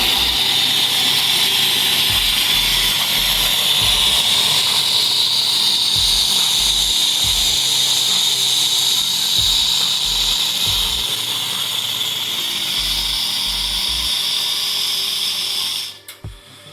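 A coffee machine steam wand hisses out boiling water during weekly cleaning, a loud steady close hiss that runs without a break before cutting off abruptly at the end.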